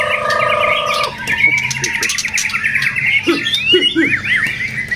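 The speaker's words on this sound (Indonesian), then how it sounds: "Ini murai batu Medan Om." Murai batu (white-rumped shama) from Medan singing close by, a stream of bright varied whistles, chirps and squawky phrases with rising and falling notes, loud and continuous.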